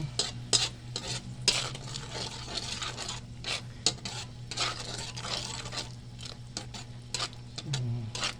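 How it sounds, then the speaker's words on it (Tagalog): Food sautéing in a pan, stirred continuously with a utensil: a quiet sizzle under repeated scraping and clinking strokes, close and steady, no voices. "So gisa-gisa lang guys, gisa-gisa lang, karaw-karaw lang."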